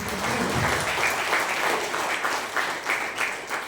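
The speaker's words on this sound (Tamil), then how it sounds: "ஒரு முறை கூட உங்களுடைய கரகோஷம்." Steady applause from a seminar audience at a district youth-service event in a hall, many hands clapping together at an even level throughout.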